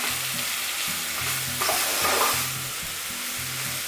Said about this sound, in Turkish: Yine karıştırıyorum biraz. Mantar suyunu salacak.